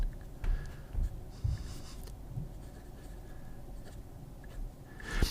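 A Lotus Titan fountain pen with a wet medium nib writes on paper, giving faint, close scratchy strokes in short irregular bursts.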